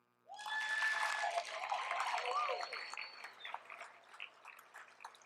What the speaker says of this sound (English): Let's just applaud one more time.